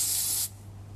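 A can of cooling spray hisses in one close, steady burst for about half a second, then cuts off, leaving a faint electrical hum from a 1982 home computer setup.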